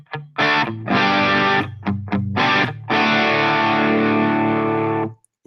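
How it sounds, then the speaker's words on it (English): Lower-gain overdriven amp tone from a PRS electric guitar through a Helix modeler: several short choppy chord stabs, then a long sustained chord ringing out before stopping abruptly, close and with no talking. "And turning that down, here's the lower gain sound."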